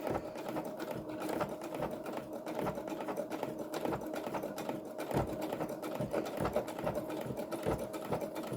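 A sewing machine stitches a fabric journal cover with an Asian-inspired design, a steady close mechanical whirr with a regular rapid needle clatter, running continuously with no voices.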